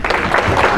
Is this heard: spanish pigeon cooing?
no